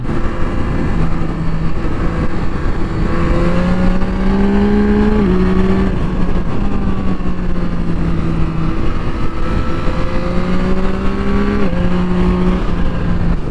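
A 2024 Yamaha MT-09 SP motorcycle is ridden hard through tight switchbacks on Tail of the Dragon. Its engine rises and falls through repeated gear changes between second and third, loud and close, over constant wind noise.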